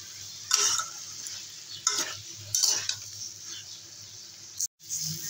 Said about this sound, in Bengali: এবারে দিয়ে দেবো পটল আলু। আবার 2 মিনিটের মতো একটু কষিয়ে নেব।